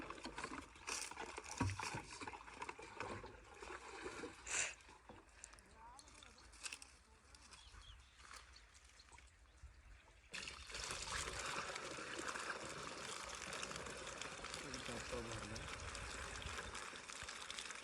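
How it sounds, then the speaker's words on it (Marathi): Water poured to fill a 20-litre farm sprayer tank, a soft trickling that becomes a steadier, louder splashing stream in the second half, with someone talking at times. "सगळ्यात पहिले आता आहे ना पाणी टाकून घेऊ आणि टाकी भरून घेऊ"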